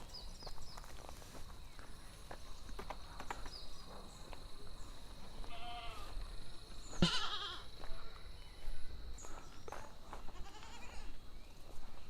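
Goats bleat in a newly built iron-framed goat shed, with several calls rising over a rustling, shuffling background and footsteps, and no clear speech.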